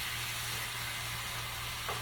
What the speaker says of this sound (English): And I'm going to let that meat cook. I want it to get a little crust on it.